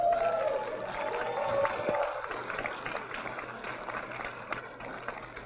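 A community forum audience applauds and murmurs at a distance, soft scattered clapping mixed with crowd noise that thins out over several seconds.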